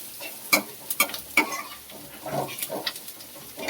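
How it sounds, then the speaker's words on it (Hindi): Spices frying and being stirred in a pan for kala chana, with sharp scraping clicks of the spoon over a steady soft sizzle, close and alone. "इधर मसाला भून रहा है"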